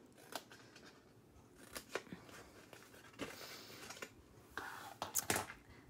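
Scissors snip through craft trimmings in a few short, crisp cuts spaced irregularly, close and quiet with soft room noise in between.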